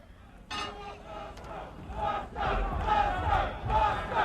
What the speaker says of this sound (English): And the crowd is chanting Buster.